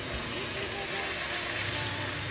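Chicken wings, skin side down, fry in a generous layer of oil in a home wok, giving a steady close sizzle and crackle throughout, with a faint voice underneath.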